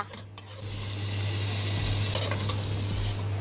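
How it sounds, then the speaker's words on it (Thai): Finely chopped carrot and onion sautéing in melted butter for a tomato spaghetti sauce, a steady close sizzle with occasional stirring scrapes, no talking. "ละลายเนยแล้วก็เอาผักลงไปผัดจนนิ่มค่ะ"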